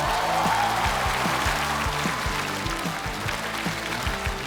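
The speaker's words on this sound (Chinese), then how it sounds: "那我们用热烈的掌声，有请头很圆的程序员孙刘登" Audience applause at a Chinese-language stand-up comedy show as a comedian is welcomed to the stage. Continuous crowd clapping runs throughout, blended with pulsing bass-heavy walk-on music.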